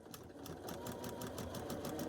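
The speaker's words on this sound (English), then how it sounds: "So I'm going to be sewing 4 pairs together and pressing to the dark" A sewing machine stitching pairs of quilt block pieces together along bias edges, running in a steady, fast needle rhythm at close range throughout.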